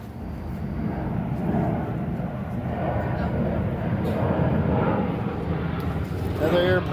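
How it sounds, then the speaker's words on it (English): A Southwest airplane flies overhead, a steady, fairly loud broadband roar that stays level for several seconds outdoors. "Another airplane coming through, another Southwest."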